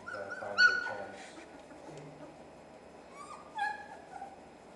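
Four-week-old German shepherd puppies whimper and squeal in high, wavering cries, a few louder yelps rising over soft background noise close by.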